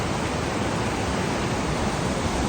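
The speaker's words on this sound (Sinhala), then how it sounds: "මේ ඇල ඇලි වතුර බොර ගතියක් තියෙනවා" Water from a hill stream running through a tea estate rushes in a steady, dense broadband roar, loud and continuous, without pauses or voices.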